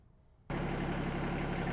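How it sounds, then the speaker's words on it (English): An LS MT225S compact tractor starts running abruptly after near silence, its engine settling into a loud, steady idle with a low rumbling throb close by. "Hopefully you can hear me over the tractor running."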